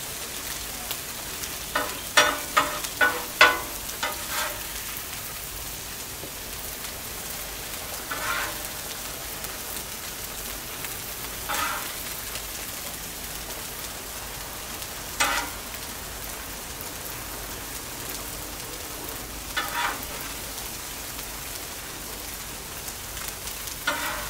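Carne asada meat fries in a pan with a steady low sizzle, broken by clusters of sharper pops and scraping stirs that recur every few seconds, close and alone.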